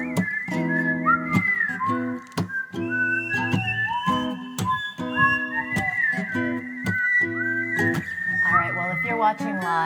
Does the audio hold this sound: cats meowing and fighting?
no